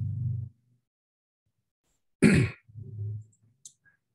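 A single loud, close throat clearing from a man, with a short burst of speech just before and after it.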